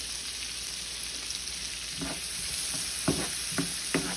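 Onions and peppers frying in a pan over medium-low heat, a steady soft sizzle with a few louder stirring scrapes and clacks toward the end, no talking.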